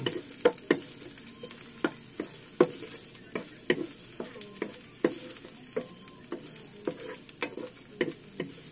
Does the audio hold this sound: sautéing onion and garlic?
yes